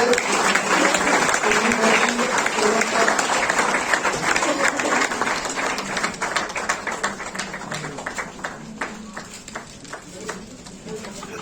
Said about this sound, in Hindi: एक बार जोरदार तालियां बजा